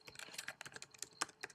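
Fast typing on a Mac computer keyboard, a dense, irregular patter of crisp key clicks at close range with one sharper tap, no voices.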